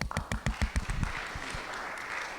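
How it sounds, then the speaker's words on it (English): Audience applause for a panel at a college and career event: a short burst of clapping from a crowd in a room, a dozen or so quick claps that quickly fade into murmuring room noise. "If everyone can give them a round of applause."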